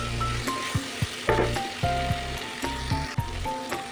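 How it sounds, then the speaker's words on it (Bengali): Large-cut potatoes frying with spices in a pan, a loud close sizzle broken by rhythmic spatula scrapes and knocks against the pan roughly every half second. "দিয়ে দেবো দুটো বড় বড় করে কাটা আলু। মশলাগুলো দিয়ে ভালো করে কষিয়ে দিচ্ছি।"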